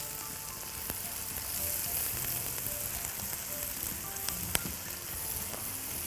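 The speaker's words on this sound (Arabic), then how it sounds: "على ما البصل يتحمر" Onions frying in a pan of butter and olive oil, a steady close sizzle with faint crackles and small pops running evenly throughout, no voices.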